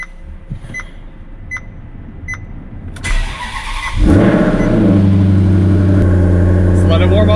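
A sports car engine cranks and catches, then settles into a loud, steady idle with a deep rumble, after some quiet clicks and shuffling.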